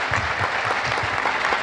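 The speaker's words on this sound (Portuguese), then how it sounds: "Eu queria pedir uma salva de palmas para ele, pelo excelente trabalho que ele tem feito também." Audience at a political panel discussion breaking into applause, a dense burst of steady close clapping filling the whole short moment.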